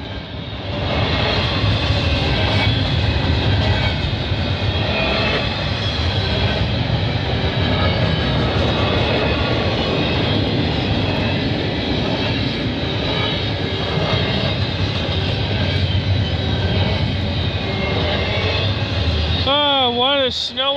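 A CN freight train races past at speed through falling snow at Burlington West, a loud, steady roar and rumble that fills the whole stretch without letting up, with a brief wavering tone near the end.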